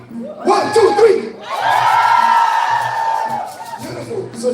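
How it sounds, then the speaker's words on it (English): An audience screams together on cue, a loud sustained crowd roar with whoops and shrieks swelling for a couple of seconds, preceded and followed by shorter bursts of shouting. "Now, on the count of 3, everybody scream."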